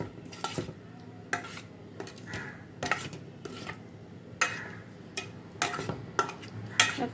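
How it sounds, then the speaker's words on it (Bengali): Gentle stirring and mixing of cut paneer cubes into a yogurt spice masala in a bowl, with soft scraping clinks of a utensil against the dish in irregular bursts, close by and without talk. "এবার দিয়ে দেবো এর মধ্যে আমি কেটে রাখা পনিরগুলো দিয়ে খুব হালকা হাতে মশলার সাথে মাখিয়ে নেব"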